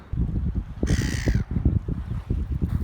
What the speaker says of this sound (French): les mouettes alors